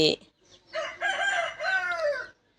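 A rooster crows loudly and close by, one long drawn-out call after a short cluck, with no other sounds around it.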